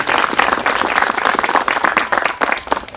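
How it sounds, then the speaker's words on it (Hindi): An audience at a network marketing event bursts into loud, close applause, dense overlapping claps continuing steadily for a few seconds. "उस इंसान का नाम तालियों की चपेट में दब गया"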